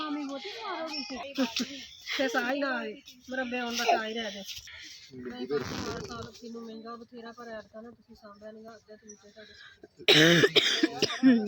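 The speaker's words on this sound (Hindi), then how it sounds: "खांसी से बुरा हाल है।" A person with a bad cough hacks several times and clears their throat between stretches of talking, on a family outing to an orange orchard. The coughs are close and sharp, and one loud burst comes near the end.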